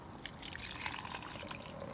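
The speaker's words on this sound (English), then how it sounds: "whack your hot water on." Hot water trickles and dribbles into a soup mix outdoors on a cold woodland trip, a short, quiet, close-up pour with small splashes and drips.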